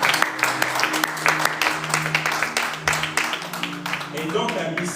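A church congregation claps in rhythmic unison, a steady dense patter of many hands. The clapping stays loud and continuous throughout, mixed with voices singing or calling out over it.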